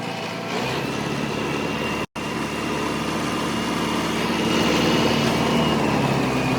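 A 4x4 tractor fitted with a rotavator drives along, its diesel engine running with a steady loud drone that holds throughout, close to the listener, with no talk.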